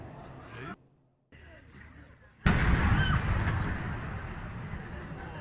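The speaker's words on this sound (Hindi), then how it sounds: "आप सुन भी सकते हैं कि किस कदर ये जोरदार धमाका था" A sudden loud blast erupts after a brief silence and gives way to a long rumbling roar that slowly fades.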